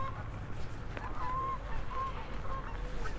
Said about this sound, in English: Look, the geese